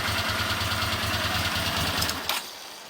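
A Honda GL500 (CX500) motorcycle engine idles with a steady, rapid low throb, close and loud, then a sharp crack as the throttle is blipped before the sound drops away.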